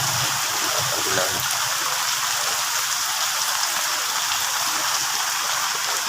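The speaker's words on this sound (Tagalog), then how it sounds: "Malakas ang ulan." Heavy rain pours down in a constant, dense hiss, drumming steadily on surfaces close by.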